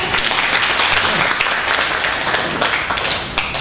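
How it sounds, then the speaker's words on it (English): Parents at a poetry and writing workshop clap for themselves: loud, nearby, steady applause from a roomful of people, lasting the full few seconds with no voices on top. "Give yourselves a round of applause."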